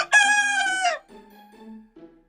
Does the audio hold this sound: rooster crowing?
yes